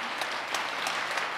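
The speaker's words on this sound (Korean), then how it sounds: "박수로 환영합니다." Audience applause welcoming newcomers at an interfaith joint worship service: steady, continuous clapping from a crowd, sustained evenly across the moment with no voices over it.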